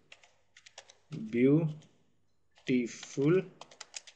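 Clicky keystrokes on a computer keyboard as a prompt is typed for a local Stable Diffusion install, scattered taps before and after two stretches of spoken words that dominate the middle.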